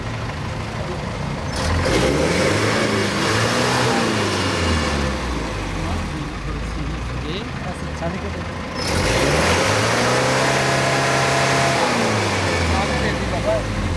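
A smog-emitting car's engine with an abnormal noise revs up twice, rising and falling in pitch, loud and close, with a steady idle rumble between the revs.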